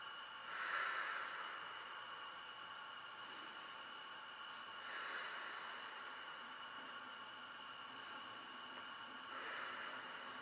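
Slow, deep breaths taken during a postpartum glute and trunk-lift exercise, three soft, airy breath sounds spaced a few seconds apart, quiet and close over a faint steady hiss.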